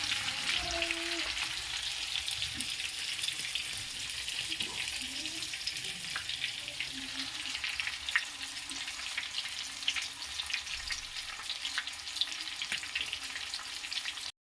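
Fish frying in hot oil, a continuous bright crackling sizzle that holds steady for the whole stretch, close by, with faint clinks and a brief bit of background noise.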